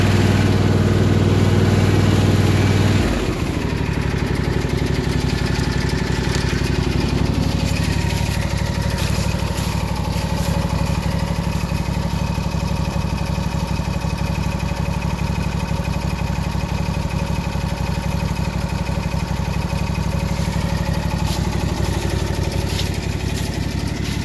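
A small Simplicity garden tractor engine, pulling a trailer loaded with wood, runs steadily and loudly for the whole stretch, with a rough low chugging drone that shifts slightly in pitch after the first few seconds.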